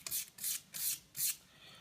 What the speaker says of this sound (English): just rub off the darker red enamel, which will just take a few white scrapes of the sandpaper